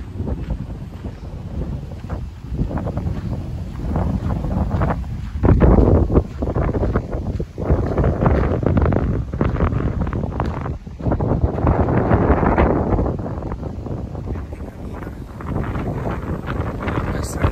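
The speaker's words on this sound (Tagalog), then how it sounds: "Hangin." Gusty wind buffets the microphone outdoors in rising and falling rumbling bursts, with voices faintly heard beneath.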